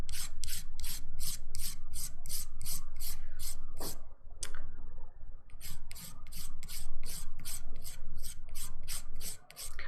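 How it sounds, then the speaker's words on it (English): A nail file buffs a dip powder manicure, making rapid rhythmic scratchy strokes close by. Brief pauses break up the strokes before the buffing resumes. "I better get the buffing done"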